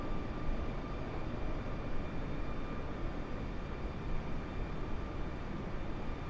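An airplane taxiing along a runway in Flight Simulator gives a steady, dense engine drone with a low rumble, holding even and unbroken from start to finish without talk.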